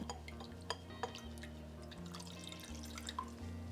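Water trickles and drips into a homemade tranexamic acid serum mixture while it is stirred, giving soft splashes and drips over a steady low mechanical hum. No one speaks.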